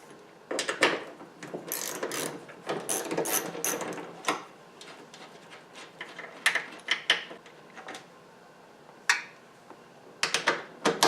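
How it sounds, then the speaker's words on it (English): Clicking and ratcheting bursts of an 11mm socket and ratchet loosening the three nuts that hold the exterior side view mirror on a fourth-generation Ford Mustang, close up and irregular, with quiet pauses between runs. "remove the 3 holding nuts using an 11mm socket and ratchet"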